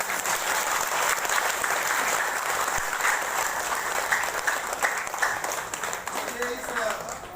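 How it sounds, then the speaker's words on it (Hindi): Audience applause fills a hall at a religious gathering of a guru's seva sanstha at a pilgrim lodge on Dhanteras, a dense, steady clapping from a large crowd that holds loud and even throughout. "जोरदार ताली बजाइए एक बार महाराज"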